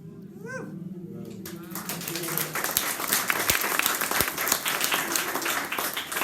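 An audience breaks into loud, sustained applause that swells and holds steady, preceded by a brief voice speaking alone.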